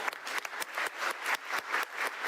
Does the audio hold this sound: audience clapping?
yes